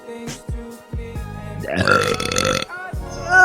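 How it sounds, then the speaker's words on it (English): Woman's burp, a loud drawn-out belch after several short vocal sounds, followed by brief talk. "I have to burp."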